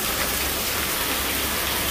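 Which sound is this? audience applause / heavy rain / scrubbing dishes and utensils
heavy rain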